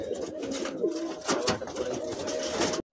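A Kalanka pigeon, a Madrasi high-flying breed, coos in a low, repeated pattern close by, with little else heard before the sound cuts off.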